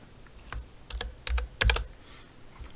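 Quick bursts of keystrokes on a computer keyboard, close and crisp, with a handful of clustered taps and clacks and no talking.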